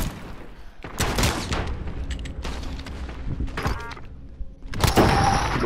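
Gunfire in the Call of Duty Modern Warfare video game, including a shotgun: several loud, sharp shot bursts and booms spread across the span, with a heavier blast near the end.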